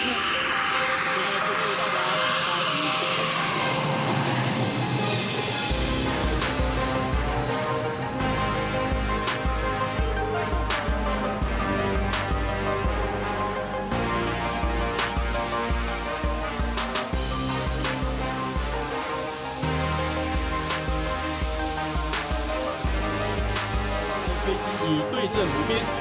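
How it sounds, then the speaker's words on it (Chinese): A fighter jet lands and rolls along the Minxiong wartime highway strip with a continuous, loud engine roar. Narration and music run over the engine throughout. "飞行员操控战机，保持战备道中线滚行，维持适当仰角，运用气动力减速。"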